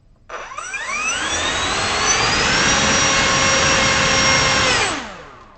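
RC model SU-30 jet engine spooling up to full throttle, a loud close turbine whine rising in pitch, holding steady at a high roar and then winding down at the end, no voices.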